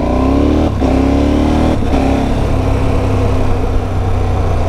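A KTM 1290 Super Adventure S motorcycle fitted with a Rekluse automatic clutch pulls away smoothly in second gear without the clutch lever, its engine note rising through two brief rises before settling into a steady, loud, close drone.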